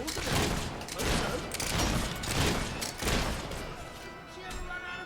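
Video game gunfire from a companion in Fable III comes in rapid bursts of repeated shots, moderately loud, with occasional thuds and voices talking over it.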